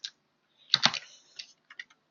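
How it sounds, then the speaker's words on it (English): A few separate keystrokes on a computer keyboard, close and crisp, tapped in a short uneven burst with gaps of silence between them. "I can start typing title."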